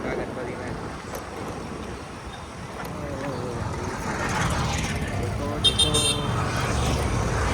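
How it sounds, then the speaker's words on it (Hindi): Traffic drifts along a road in Baroda, a windy, distant wash of vehicles, then a couple of short car-horn toots cut in near the end over the background noise. "हमारे बड़ौदा में ट्रैफिक का बहुत ज़्यादा लॉस है।"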